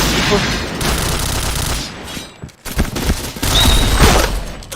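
Rapid automatic gunfire in the online shooter Point Blank, loud sustained bursts with a brief pause mid-way, then renewed shooting and sharp shot impacts, a player's voice faintly mixed in.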